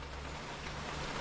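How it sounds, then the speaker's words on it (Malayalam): Heavy rain pours in a steady, dense hiss with a low rumble underneath, continuous and unbroken, with no voices over it. "മഴ താർക്കുവാണേ"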